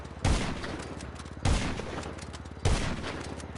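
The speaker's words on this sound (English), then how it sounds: "They must have increased the fire rate for the heavy sniper because it seems to shoot faster than normal." Three booming heavy sniper rifle shots fired in quick succession in GTA 5, evenly spaced about a second apart, each a loud sharp blast that trails off over a steady low hum.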